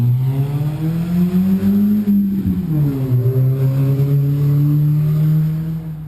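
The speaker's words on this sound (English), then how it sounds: "Here's the race car." A turbocharged Honda H2B-powered race car engine revving close by, a loud droning note that climbs, dips sharply and settles into a sustained buzzy hum, heard alone without talk.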